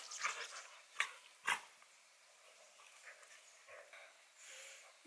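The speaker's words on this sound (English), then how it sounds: "These dogs." Dogs barking outside a hostel in Ecuador: a few sharp barks early on, then fainter yips and whimpers, heard from some distance in a quiet outdoor setting.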